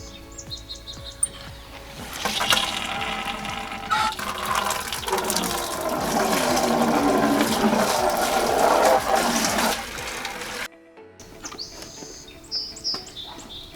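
Water from an outdoor tap gushes into a bucket for several seconds, a steady splashing rush that swells and then stops, with birds chirping faintly in the background.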